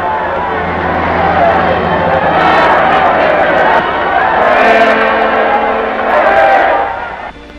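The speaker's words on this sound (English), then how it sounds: "or to wildly cheer their American protectors as they arrive" A crowd in North Africa during the Second World War wildly cheers arriving American troops. The rolling roar of many voices rises and swells throughout, with a voice speaking over it.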